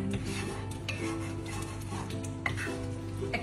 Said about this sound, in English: we can just keep stirring it